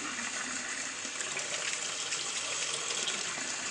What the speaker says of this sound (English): I would only recommend washing off the egg with cold water